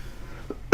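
A single sudden cough bursts out loud and close at the very end, following a brief soft throat sound and near silence, from a person with a lingering cough after COVID.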